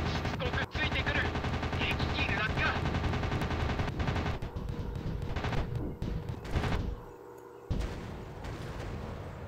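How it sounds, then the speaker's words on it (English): Rapid machine gun bursts in a flight combat video game, dense and loud rattling fire with brief pauses, near the end breaking off before resuming, with speech in the background. "These machine guns are fucking annoying me."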